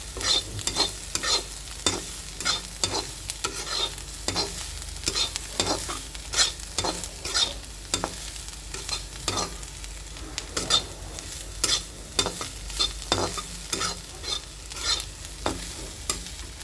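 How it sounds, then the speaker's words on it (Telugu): A spoon scrapes and stirs chili powder through carrot fry sizzling in a pan, sharp repeated scraping strokes over a continuous soft sizzle, close and moderately loud, no voices. "కారం వేసేస్తే అలా కలుపుతుంది"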